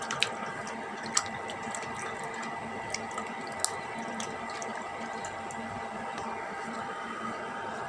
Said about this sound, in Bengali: এবার আমি আমটা ধুয়ে নেব।